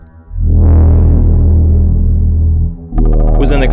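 A MachineRoom Trilobite and an Endorphine Furthrrrr generator synthesizer produce a loud, sustained droning tone with rich buzzing harmonics that swells in, holds, dips briefly, then returns with a brighter, chirping, rhythmically pulsing texture.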